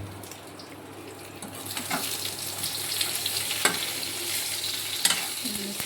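Green chillies fry in a pan with a continuous sizzle and occasional stirring scrapes, set against a steady hum from a kitchen chimney.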